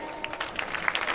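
Brief applause from an audience at a patronal-feast band concert in Manfredonia welcoming the guest Essipontina, a busy crackle of many hands at moderate volume with scattered sharp claps.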